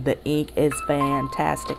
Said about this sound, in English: that's my phone. Someone's going ding dong.